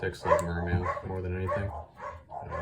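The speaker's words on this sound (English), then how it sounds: "Excuse my dogs, they never shut up." Dogs bark and yip in a room close by, loud and insistent, while a person keeps talking over them.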